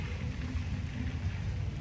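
Steady rain falling on a hiking trail on the Appalachian Trail near Mount Washington, a dense, even hiss and patter with low rumble, continuous and without voices.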